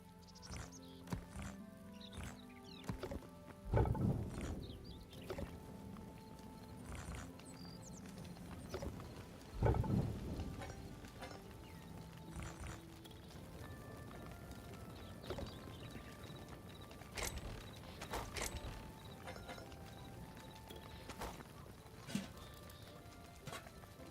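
Horse hooves clip-clopping in the video game Hytale, quiet irregular thuds with a couple of louder steps amid faint game ambience and tones.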